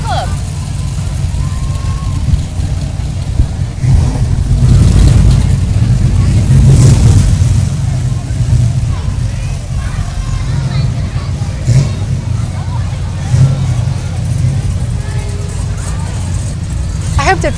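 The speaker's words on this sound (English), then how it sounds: "You can tell all these cars probably have a V8 engine. They sound like they can go really fast." V8-engined cars from a car club rev and rumble past loudly at a Christmas parade, with a steady low engine roar that swells in the middle, over crowd noise and talking.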